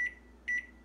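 A microwave's timer buttons are pressed, giving two short, clear electronic beeps a moment apart over a low steady hum.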